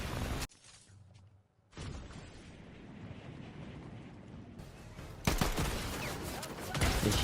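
Assault rifle gunfire in a Fortnite match rattles in dense, loud bursts, briefly dropping away near the start before resuming heavier toward the end.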